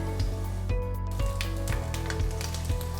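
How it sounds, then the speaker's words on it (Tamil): Cumin seeds and ginger sizzle steadily in hot ghee in a pan for pongal, a close, continuous crackle with faint stirring and pan knocks and no voices. "இப்போ நான் ஜீரகம் ஆட் பண்ணிக்கிறேன், இஞ்சி ஆட் பண்ணிக்கிறேன்"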